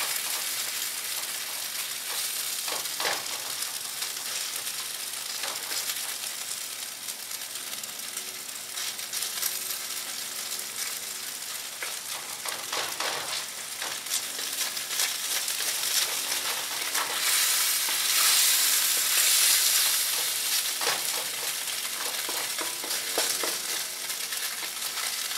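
Beef stir-fry sizzles loudly in a hot pan while it is stirred constantly, giving a steady frying hiss marked by rhythmic scraping and clattering of the utensil that swells briefly near the end.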